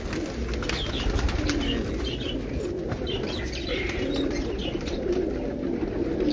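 Pigeons of the Amritsar breed coo steadily and close, with soft chirps and a few wing flaps over a constant low background rumble.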